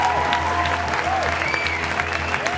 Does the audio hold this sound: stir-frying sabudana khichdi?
no